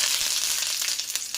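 Curry leaves crackle and spit in hot oil, a loud, close sizzle with sharp little pops over the steady hiss.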